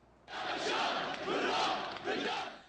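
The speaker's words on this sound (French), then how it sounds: "Acclamé par une foule de partisans au théâtre de Damas pour son premier discours depuis 7 mois, Bachar al-Assad" Crowd of supporters in a Damascus theatre cheering and shouting for Bashar al-Assad at his first speech in seven months, a dense, loud roar sustained throughout with surges of voices.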